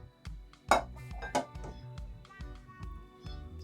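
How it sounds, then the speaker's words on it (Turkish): Soft clinks and knocks of stuffed onions being set into a metal pot, several separate placements with quiet scraping between them. "Tenceremize sırayla yerleştiriyoruz."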